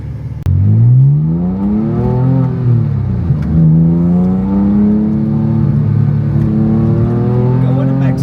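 A Porsche 997 Carrera 4S engine revs up and down in rising and falling sweeps, loud and close, its tone climbing and settling across several seconds.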